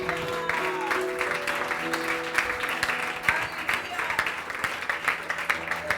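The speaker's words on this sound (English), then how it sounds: "Give a good clap offering to the Lord." A church congregation at a combined anniversary service claps as an offering to the Lord, dense sustained clapping with rhythmic sharp accents, mixed with lingering musical tones and some voices underneath.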